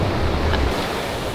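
Sea waves wash onto a shore in a broad, steady rush of surf mixed with wind buffeting the microphone, close and fairly loud, with no voices.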